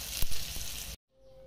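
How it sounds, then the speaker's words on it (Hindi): Fish frying in hot oil, a loud dense sizzle with a few sharp pops that cuts off abruptly into a faint quiet hiss. "हम लोग की फिश फ्राई हो चुकी है"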